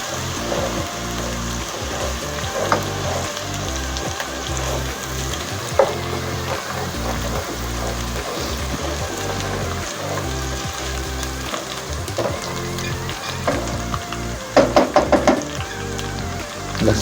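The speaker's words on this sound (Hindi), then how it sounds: "इसको थोड़ा भुनाई करेंगे स्लो आंच पे" Garlic and masala fry on a low flame in a handi pot for chicken biryani, giving a steady, close sizzle with occasional knocks and scrapes from stirring. No one speaks.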